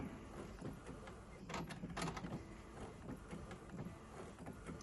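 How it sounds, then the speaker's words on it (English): An Epson ET-8550 printer printing an A4 page at best quality, with a faint steady mechanical whir and a few soft rising sweeps of the print head moving back and forth. "This is real-time printing. A4 best quality."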